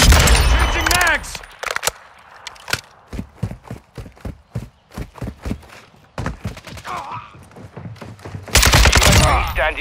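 Call of Duty: Modern Warfare II team deathmatch on the Valderas Museum map, with rapid bursts of loud gunfire and single shots in quick rhythm, plus brief shouted voices at the start and end.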